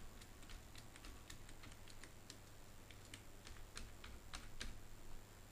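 Password being typed on a computer keyboard, a quick, uneven run of soft close key clicks over a quiet room hum, no voices.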